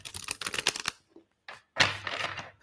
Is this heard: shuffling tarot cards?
yes